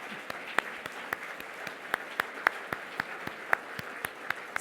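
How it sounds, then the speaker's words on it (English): Sparse, scattered clapping from a small audience at an awards ceremony, individual claps spaced irregularly over a quiet room, faint and somewhat distant. "You can clap there."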